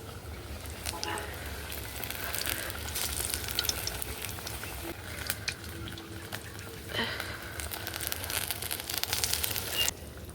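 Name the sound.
pointed gourd (potol) frying in oil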